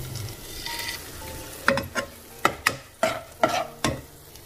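Fried onions with chili and gongura paste for mutton biryani being stirred in a pan, a soft sizzle under repeated sharp scraping strokes of a spoon, about eight close, fairly loud hits in steady rhythm.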